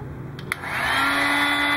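A steady, loud blowing roar of hot air from a heat gun starts up after a couple of soft clicks and continues evenly, close by.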